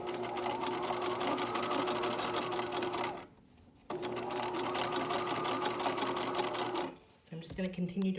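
A sewing machine stitches elastic onto underwear fabric in two steady rapid runs of needle clatter, close up, with a short pause between, under continuous talking.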